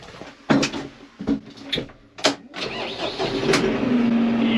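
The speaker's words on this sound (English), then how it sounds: "Tractor time." A Workmaster tractor engine cranks with several sharp, uneven clunks and bursts, then catches and settles into a steady running hum that continues to the end.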